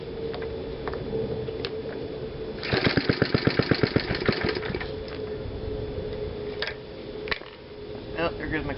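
A small engine idles roughly at low throttle, sputtering into a quick run of rapid firing pulses before settling back to an uneven idle, with a voice talking nearby.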